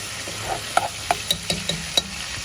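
Chicken tail fat sizzles and crackles in a hot pan, with a series of sharp pops and spits over a steady frying hiss.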